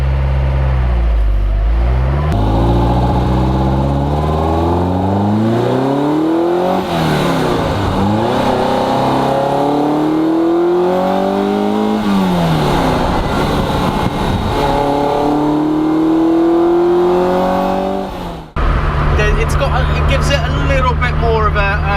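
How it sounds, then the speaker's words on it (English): Ferrari 308 engine revving hard through several rising and falling sweeps, with intake airbox roar prominent, loud and close throughout before a brief cut and a steadier idle-like drone at the end. "let's see airbox noise."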